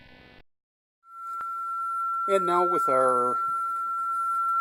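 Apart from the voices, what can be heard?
sine wave test tone from signal generator at 1354 Hz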